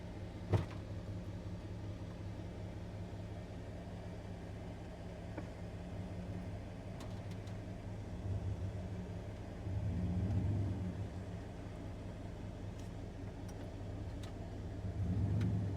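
A 1999 Dodge Ram truck in four-wheel low gives a faint, low, steady engine rumble heard from inside the cab, swelling gently a few times as it pulls, with occasional small knocks and clicks.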